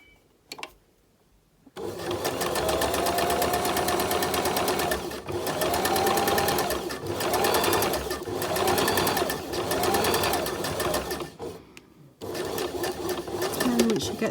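A domestic sewing machine runs a rolled hem in long whirring bursts with short pauses between them, then a few quick back stitches at the end. It is close and loud, with no talking over it.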